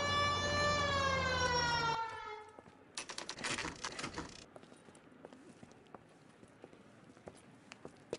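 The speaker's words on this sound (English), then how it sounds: "I have the siren now." A police car siren from the LA Noire video game wails loudly with a rising and falling pitch for about two seconds, then cuts off, followed by quieter clattering and scattered thumps.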